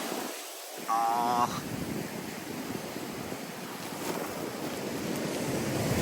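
Steady sea waves at Wuyanjiao wash in a broad continuous roar with wind buffeting the microphone, plus a short electronic tone near the start.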